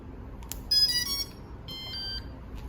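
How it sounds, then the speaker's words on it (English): A series of high electronic beeps and short chirping tones from drone electronics plays close up over a low background hum, with a brief pause between bursts. "now we're gonna wait for the beep sound again"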